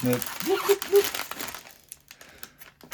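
A small plastic bag of LEGO pieces snipped open with scissors, a brief burst of loud crinkling rustle close by, mixed with speech at the start, then fading into quieter scattered rustles.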